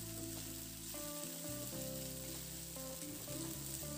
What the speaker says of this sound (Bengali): এবার আদা রসুনটা নাড়াচাড়া করে পেঁয়াজের সঙ্গে আবার একটু ভেজে নেব